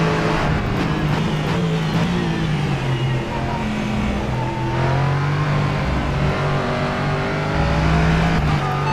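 NORMA M30 LMP3 race car in rFactor 2 at Road Atlanta, its engine droning loud and continuous from the cockpit, revving up and down through gear changes with occasional tire noise.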